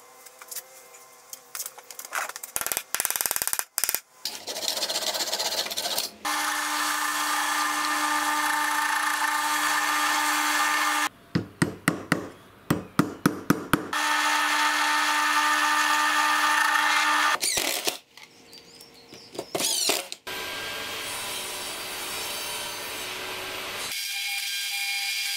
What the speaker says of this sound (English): re-drill the correct hole beside it.